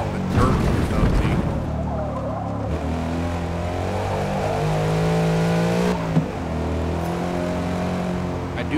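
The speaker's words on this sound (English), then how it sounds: "I do like how it actually sounds like an actual Mustang." A Ford Mustang engine in the Forza Motorsport racing game, holding a steady loud drone that rises and falls in pitch as it revs and shifts, with a brief scrape partway through.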